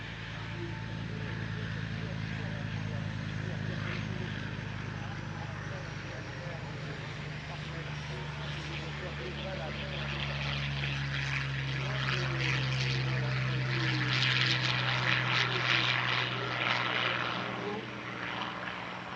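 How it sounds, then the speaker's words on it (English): A Yak-9P piston-engine fighter drones steadily overhead at an airshow, a continuous engine roar that swells slightly toward the end. "The first of the two aircraft to make an appearance is the Yak-9P"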